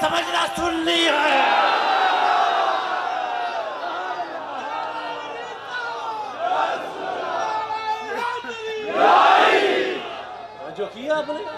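A large religious gathering shouts slogans in unison, call-and-response chants rising and falling in loud waves, with a sharp swell of voices near the end, at a sermon event.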